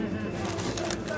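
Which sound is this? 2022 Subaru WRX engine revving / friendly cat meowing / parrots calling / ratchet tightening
parrots calling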